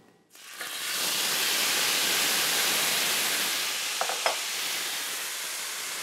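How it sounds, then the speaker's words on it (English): Pork loin with salsa landing in an oiled skillet and sizzling, a sudden onset of loud steady frying hiss that stays broad and continuous, with a couple of faint clinks near the end. "now all I need to do is add my pork to my skillet"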